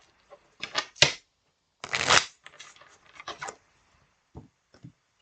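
A tarot deck is shuffled in several short riffling bursts, crisp card flutters and taps separated by pauses, close and alone.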